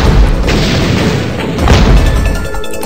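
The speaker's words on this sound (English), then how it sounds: "So I'll just let the explosions die down." Continuous booming explosions from the 2D shooter game Gun Mayhem 2, a loud, dense rumble of blasts and thuds with no pauses, swelling again near the middle.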